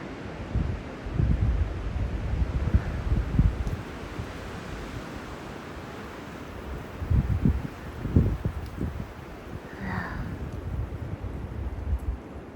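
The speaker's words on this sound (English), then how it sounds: "Extremely windy up there." Strong wind roars in uneven gusts, a broad rushing noise buffeting close to the microphone, swelling and easing throughout with no voices.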